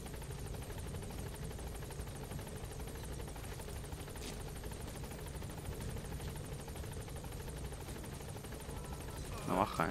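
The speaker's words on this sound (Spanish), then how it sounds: "Está aquí el helicóptero." A helicopter in the Metal Gear Solid V: The Phantom Pain video game gives a steady, throbbing rotor drone throughout, with a brief louder burst at the very end.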